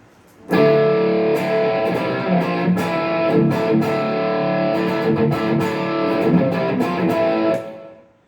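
A heavily distorted electric guitar played through a Line 6 POD X3 Live amp modeler plays loud sustained chords with a few rhythmic chugs, ringing out for several seconds before cutting off.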